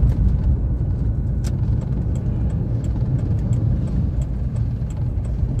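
A car engine runs steadily at idle, a continuous low rumble heard from inside the cabin, with faint ticking above it and no talk.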